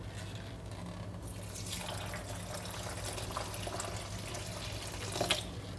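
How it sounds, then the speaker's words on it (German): Warm water poured in one go onto a dough mixture of flour in a bowl, a quiet, steady splashing stream with a brief louder splash near the end. "Und hierauf gebe ich jetzt 650 Milliliter warmes Wasser. Einfach in einem Schwung drauf und das Ganze vermischen."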